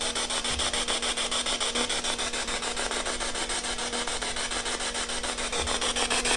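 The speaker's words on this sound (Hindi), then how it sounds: "थोड़ा थोड़ा आ रहा है व्हाइट नॉइस।" An SB7 spirit box sweeping radio static gives a steady, loud broadband white-noise hiss with a faint rapid pulsing texture, running continuously without speech.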